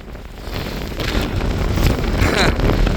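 Strong wind on Longlands Fell summit buffets the microphone in a steady, rumbling roar that swells slightly, with a broad gusty hiss and no clear voices.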